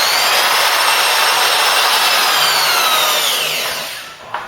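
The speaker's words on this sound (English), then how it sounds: "Alright, let's get this bad boy drilled." Power drill boring into a rusty Ford Cortina MK3 GXL body panel during restoration, a loud continuous high whine with rising and falling pitch for about four seconds, then stopping with a couple of small knocks.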